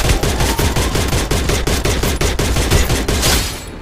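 Rapid bursts of gunfire from a gun in the video game Free Fire Max, a loud, steady automatic rattle of repeated shots lasting several seconds, with no talking over it.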